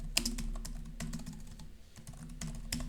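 Pascal code being typed on a computer keyboard, heard as close, clear keystrokes in an uneven rhythm with short pauses between bursts of clacking.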